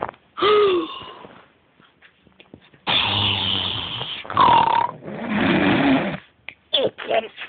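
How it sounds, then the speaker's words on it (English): Close, raspy snoring breaths from a puppy, long rough snorts alternating with pauses, with a squeaky whine and some handling noise. "You can see my puppy snoring."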